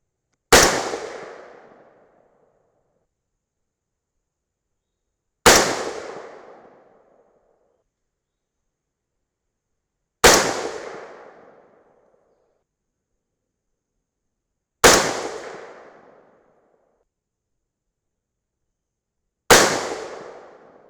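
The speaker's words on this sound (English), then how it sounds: "All right, so we had that one wild shot out there to the left." .223 Remington rifle firing 77-grain Berger OTM Tactical loads over N540 powder: five sharp, loud shots spaced roughly five seconds apart, each with a short decaying echo and silence between.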